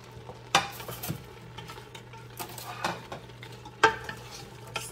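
Beef tripe with carrots, celery, onions and garlic is stirred in a soup pot, a low simmer under a faint hum broken by a few sharp spoon knocks and scrapes against the metal.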